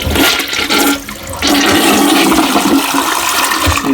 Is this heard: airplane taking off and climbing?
no